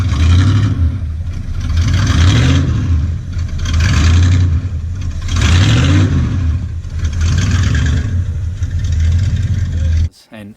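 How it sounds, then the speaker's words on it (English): A Mad Max Interceptor replica with a straight-through exhaust, balance tube and no mufflers revs in loud, repeated surges that rise and fall around a rough idle, then cuts off abruptly at the end. "So it's just a straight through exhaust system with balance tube in the middle."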